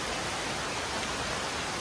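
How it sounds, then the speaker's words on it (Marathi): Steady, dense rain pours down during a monsoon trek through forest on the way to Mahuli Fort in the Sahyadri hills, a close, even hiss filling the whole stretch with no voices. "पावसाच्या धारा जेव्हा अंगावर पडत आहेत"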